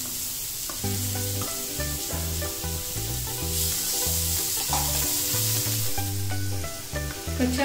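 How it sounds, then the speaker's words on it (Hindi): Vegetables (cabbage, sweet corn and raw banana) sizzle steadily in a hot pan for peri peri poha, a continuous frying hiss with stirring, under steady background music. "अब हम इसमें सारे वेजिटेबल्स ऐड करेंगे"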